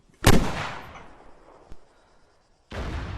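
A MAAWS or Vorona launcher fires in Arma 3 with one sharp loud blast that decays into a long rumble, then a faint distant crack and a second loud burst at the end.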